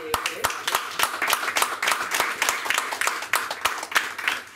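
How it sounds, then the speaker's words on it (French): An audience at a public debate on taxation claps warmly, a dense run of sharp hand claps with a few louder close ones, while voices talk over the applause. "Il faut l'applaudir."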